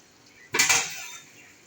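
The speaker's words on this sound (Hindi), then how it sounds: "अब मैं इसका कवर हटा रही हूँ" A lid lifts off a cooking pot of tori (ridge gourd) and tomato sabzi with a single sharp metallic clank and brief rattle, close and clear, followed by a faint trailing ring in a quiet kitchen.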